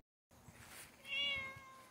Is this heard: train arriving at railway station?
no